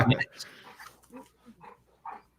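Dogs at a live gathering give short whimpers and a soft bark or two, close and fairly quiet, in brief separate bursts with pauses between them.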